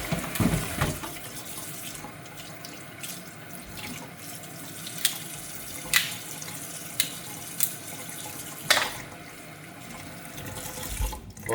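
Tap water running steadily into a sink while a mud crab shell is washed out, a continuous close splashing stream with a few knocks and clatters of the shell against the basin.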